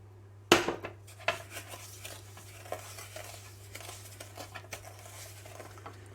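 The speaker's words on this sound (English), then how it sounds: "So the margarine goes in the bowl, just soften that up a bit. And then I'm going to cream that with the sugar." Margarine and sugar being creamed together in a mixing bowl, with a sharp knock at the start followed by soft, irregular scraping and tapping of a utensil against the bowl, close and fairly quiet, with no talking.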